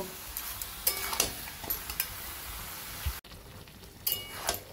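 Boiled jackfruit tossed with masala and a splash of water in a pan, heard as wet stirring and scraping over a steady low sizzle, with a few spoon clinks and a brief drop in level midway.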